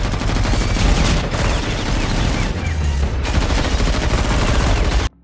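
Dense, continuous gunfire erupts as mercenaries shoot guests at a wedding, a loud barrage of overlapping shots that runs unbroken for about five seconds before cutting off abruptly.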